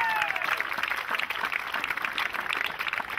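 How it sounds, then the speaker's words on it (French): An audience applauds steadily at an opening ceremony in Saint-Hyacinthe after sponsors are thanked, a dense, fairly loud wash of clapping that fills the moment without pause. "On les applaudit"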